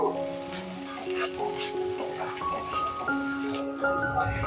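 Spices added to hot tempering oil for a Gondhoraj katla fish dish sizzle steadily while being stirred, a soft continuous frying hiss under background music with sustained tones.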